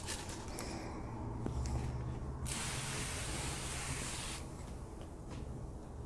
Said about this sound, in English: I like to use a little bit of spray starch.